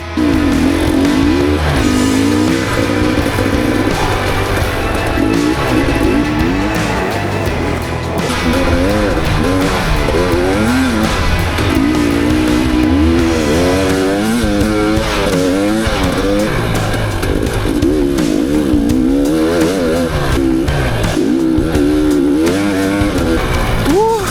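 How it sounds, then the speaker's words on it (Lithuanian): An off-road motorcycle starts from a corner beside a tree and rides a track, its engine loud and close throughout, rising and falling in pitch as it accelerates and shifts. "Startuoju, bus startas eigoje iš posūkio iš karto ties medžiu, tiek su šituo motociklu, tiek su Starku ir tada palyginsim laikus."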